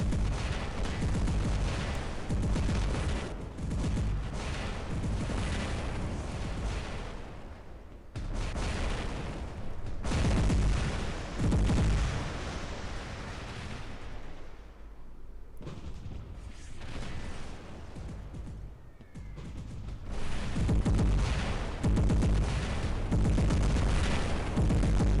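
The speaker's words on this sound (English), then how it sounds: "A lot of heavy artillery on that side." Heavy artillery fire rumbles throughout a War Robots battle on the test server, with dense booming volleys, explosions and rapid gunfire, loud and nearly continuous with a few brief lulls.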